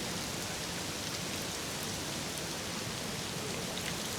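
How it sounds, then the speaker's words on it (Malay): Heavy rain pours down in a dense, steady hiss of drops hitting surfaces, even and unbroken throughout, with no voices over it. "Akhirnya setelah mandi hujan."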